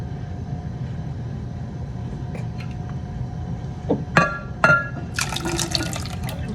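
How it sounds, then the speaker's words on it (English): Milk pouring steadily into a pan under a low, constant hum, with a few clinks and splashes near the end. "To this, I'm going to add 2 cups of milk."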